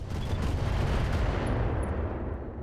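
Indirect artillery fire aimed at a Long Tom turret in RogueTech rolls as a continuous loud, low rumbling barrage with a sharp faint ping near the end.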